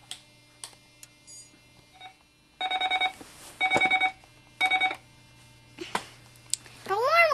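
An electronic alarm beeps in short bursts of rapid pulses, repeating several times with pauses, alongside scattered clicks and brief tones.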